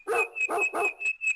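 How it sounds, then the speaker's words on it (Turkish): A dog barks four or five times in quick succession, loud and close, each sharp bark separated by a brief gap, with a steady high tone running underneath. "Bu köpek sesleri Gittikçe daha da yaklaşıyormuş."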